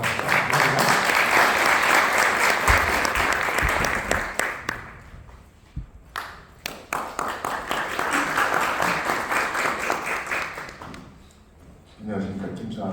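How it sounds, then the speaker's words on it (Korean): A conference audience applauds to welcome a guest speaker, a loud, sustained crowd clapping that fades around the middle, swells again, then tapers off near the end as a voice begins. "큰 박수로 맞이해 주시기 바랍니다."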